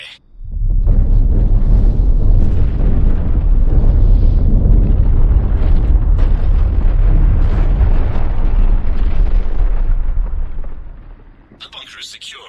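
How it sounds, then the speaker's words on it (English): Neutron bombardment explosions in the sci-fi game Mass Effect 3, heard as a long, loud, continuous deep rumbling roar of blasts that fades out near the end, followed by a short sound of something else. "Neutron bombardment underway."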